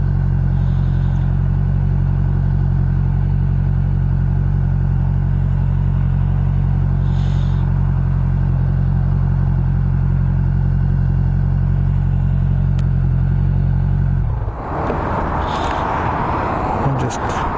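A car engine idles high, loudly and steadily with a fast, even low hum, on a cool morning, then cuts off near the end, leaving quieter background noise.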